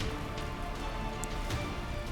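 Rain weather in a Pokémon roleplay game: a steady, fairly loud hiss of rainfall runs continuously with a few faint droplet-like ticks and no pauses.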